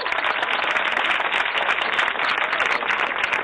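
Loud, dense applause and clapping from a studio audience on a Tamil television game show, continuous and even with no pauses, close and full throughout.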